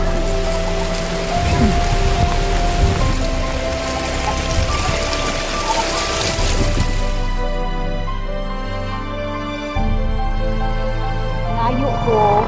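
Rain falls steadily at a campground in Valencia, Negros Oriental, a continuous broadband patter on surfaces that holds even throughout, with people talking over it and a stretch of music-like tonal sound in the background.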